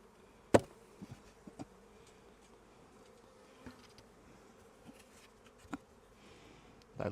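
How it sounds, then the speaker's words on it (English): A low, soft drone of many honey bees in an open hive hums steadily, close by, broken by a few quiet knocks and clicks. "There's a few bees in the lid there."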